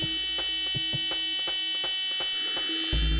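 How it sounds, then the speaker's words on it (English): An Atari Punk Console built around 555 timer chips sounds a steady, harsh electronic tone from a small speaker, buzzing continuously with a rapid pulsing rhythm, loud and close, with no talk. "you should hear a tone from the speaker."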